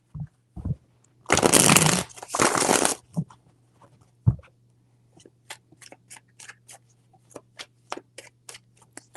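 Tarot cards shuffled close by in two quick riffling bursts, followed by a string of light, sharp taps and clicks as the deck is handled, with no voice.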